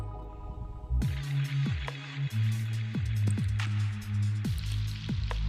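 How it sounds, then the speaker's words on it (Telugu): Washed amaranth leaves hit hot tempering of chillies and turmeric in a pan, setting off loud crackling and sizzling spatters that keep popping steadily as they fry. "1/2 కేజీ వరకు తోటకూరను ముందుగానే కడిగి పెట్టుకున్నవి పోపులో వేసి కలపండి"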